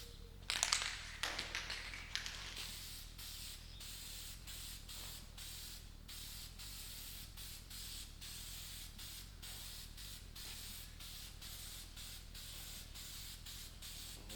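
Aerosol sealant sprayed onto both sides of a copper cylinder head gasket for a Chevrolet 235 stovebolt six rebuild, a few short hissing bursts up front, then a long steady spray hiss.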